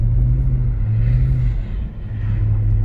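A BMW E46 325i or 320i engine revs hard while drifting on ice and snow, a loud close droning roar that holds steady, dips briefly, then climbs again.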